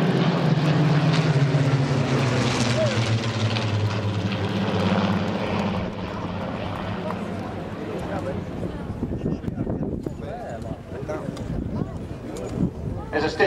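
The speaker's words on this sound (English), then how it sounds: "5 Royal Air Force BBMF Spitfires." Five Royal Air Force Battle of Britain Memorial Flight Spitfires pass overhead in a strong breeze, a loud continuous propeller-engine drone that swells and then fades, with wind buffeting the microphone.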